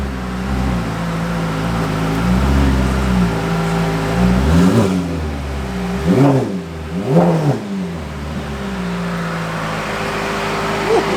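A tuned Ferrari F8 Tributo with a full exhaust idles with a loud, steady drone, then blips its throttle in several sharp revs as it backs out and pulls away, close by, with no voices.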